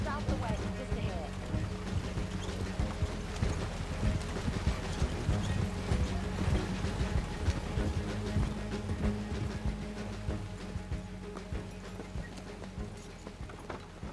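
Horse hooves clip-clop steadily as a horse-drawn wagon rolls along in the Red Dead Redemption 2 video game, a continuous moderate rhythm under wheel rumble and occasional character voices.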